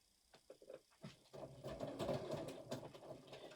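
A sewing machine runs a quarter-inch seam through two layers of fabric, a steady mechanical whirr that builds after a few short starts and holds at moderate volume.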